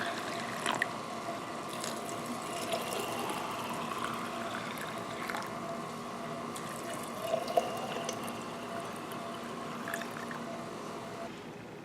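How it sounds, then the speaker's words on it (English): Boiling water is steadily poured into glass canning jars of beans to fill them to the rim, making a continuous soft gurgle with light splashes, close and fairly quiet. "And now I'm filling the rest of the jars up to the rim with boiling water."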